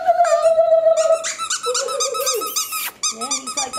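A six-and-a-half-week-old puppy plays with a yellow squeaky toy, making loud, close, repeated squeaks mixed with small puppy growls and whines.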